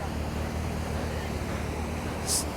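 Water rushes through a spillway beside a creek on the snowy Rubicon Trail in April, a steady, broad, roaring flow with wind buffeting the microphone.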